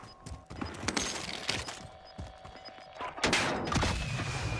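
Gunfire in the video game Warzone, a few sharp shots and short bursts scattered over steady background game noise at moderate loudness, with no talking.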